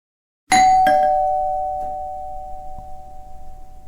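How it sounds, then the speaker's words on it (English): A doorbell rings once with a bright two-tone chime, the second tone held and ringing out slowly over a quiet room, with no voices. "Nobody rings our bell."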